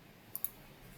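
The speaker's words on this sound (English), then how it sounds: "we're going to click select" Two quick, faint computer mouse clicks a short gap apart, made while working in Revit software, close to the microphone over a quiet background hiss.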